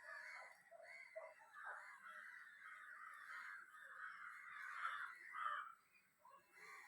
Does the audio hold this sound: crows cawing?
yes